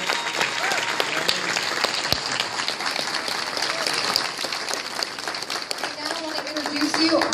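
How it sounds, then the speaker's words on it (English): An audience applauds two pastors at a college event, a dense, steady roar of clapping throughout, with faint voices mixed in. "Let's give both of our pastors a giant round of applause."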